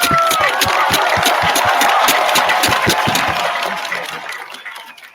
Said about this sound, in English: Can we please give all the coaches a big round of applause?